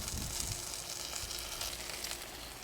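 Hatch green chile smash tacos sizzle steadily on an oiled griddle as they are flipped, giving a loud, continuous crackling hiss with no talk over it.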